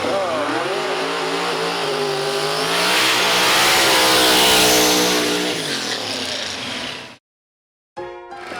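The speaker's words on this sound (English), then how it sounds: "Mike Holdridge, let it rip, brother. We're ready to go racing" Drag racing car at the strip, its engine revving loudly near the microphone with rising and falling pitch sweeps that swell to a peak, then cut off abruptly before a brief return; crowd and announcer noise sit underneath.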